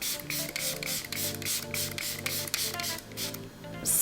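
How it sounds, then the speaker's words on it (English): A Rhode hydrating face mist is sprayed in a quick series of short, soft hissing bursts close by, fairly faint and without talking. "it's just like a hydrating mist that you can apply in between your makeup routine"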